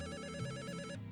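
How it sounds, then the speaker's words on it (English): An electronic telephone ring in the game Return to Shironagasu Island, a clear warbling ringtone pattern close and steady for about a second before cutting off, heard alone. "The phone is ringing."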